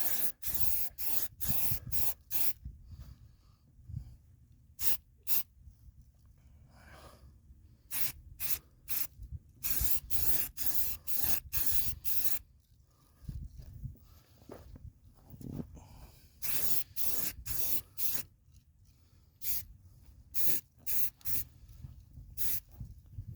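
Bursts of black primer from a spray can coating a 1983 GMC tailgate trim piece, short hissing sprays repeated in quick irregular succession with brief pauses, close and fairly loud, no talking.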